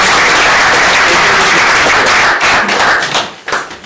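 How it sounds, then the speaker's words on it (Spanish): An audience applauds to welcome a speaker at a talk, loud dense clapping that holds steady and then thins out and fades toward the end. "Le damos un fuerte aplauso"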